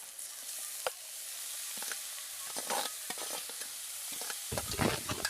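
Grated cauliflower goes into a pan of fried onion, ginger and green chilli, sizzling steadily with scraping stir strokes and clatters close by, busier toward the end, no talk.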